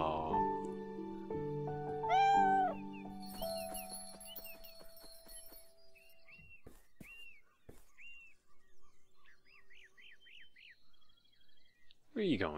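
A cat in the video game Beyond Eyes meows several times, a clear rising-falling call followed by softer chirpy mews, over faint tinkling game tones in an otherwise quiet scene.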